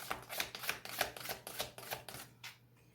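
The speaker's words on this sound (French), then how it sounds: "Je vais recouvrir les cartes négatives." Tarot cards laid down one over another on a table, about ten soft dry slaps and swishes at an even pace, close up, with a faint steady hum beneath.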